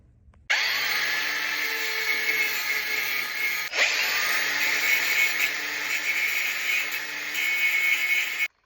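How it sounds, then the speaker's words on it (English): An angle grinder strips paint from metal ahead of welding, running as a loud, continuous, steady whir for about eight seconds with a brief dip in the middle, with no talk over it. "We're going to grind off some paint."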